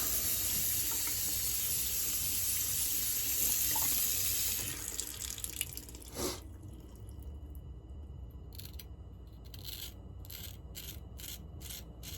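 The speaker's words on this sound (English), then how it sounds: "Just wetting my sponge here." Shaving sponge being wetted under a running tap at a bathroom sink, a steady rushing stream for several seconds that stops, followed by scattered drips and small splashes close by.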